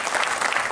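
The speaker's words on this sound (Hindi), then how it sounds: "एक बार तालियां।" Dense burst of audience applause at a Banjara community jayanti gathering, a steady wash of many hands clapping at once, loud and close, with no break in the sound.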